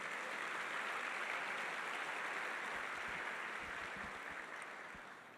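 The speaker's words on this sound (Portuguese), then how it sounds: "dá uma salva de palmas para o Senhor Jesus" A church congregation claps in a continuous, dense wash of applause that holds steady for several seconds and then gradually fades, sounding somewhat distant.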